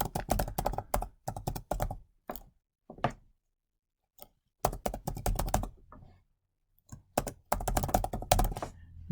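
Fingers type an email address on a computer keyboard in quick bursts of close, crisp key clicks separated by short pauses, quiet and with no talking.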